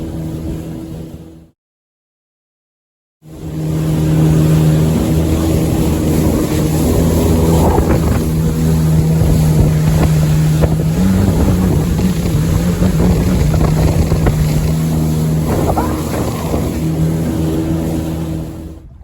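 A Yamaha jet ski out on Port Phillip Bay near Mud Island: after a brief silence, a loud, steady engine roar with rushing water and wind buffeting the microphone, continuing without talk.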